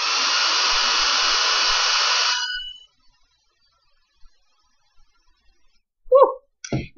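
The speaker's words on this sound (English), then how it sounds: "you're applying heat with the hair dryer" A hair dryer blows loudly and steadily nearby for over two seconds, heating a nail wrap, then switches off, leaving near silence and a few small handling noises.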